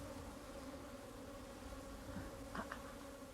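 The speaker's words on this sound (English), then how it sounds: "Meanwhile, bees, which were foraging when the hive was removed, are returning." Bees that were out foraging buzz as they return to the spot where their hive was removed, a steady low insect drone running throughout with a couple of brief louder passes near the end.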